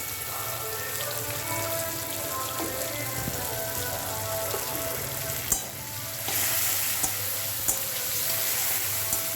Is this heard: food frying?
yes